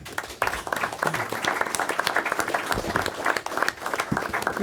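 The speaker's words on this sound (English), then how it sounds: "Let's give one more round of applause for Sergio Maldonado" Audience applause at a school district board of education meeting, a steady wash of many hands clapping that holds for several seconds with uneven swells.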